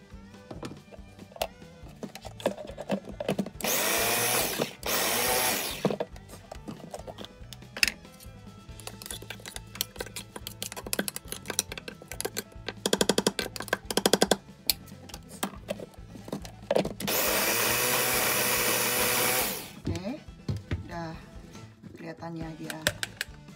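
A blender grinds a spice paste with a little olive oil for a red snapper gulai in three loud whirring bursts of a few seconds each, while someone talks throughout amid kitchen clatter.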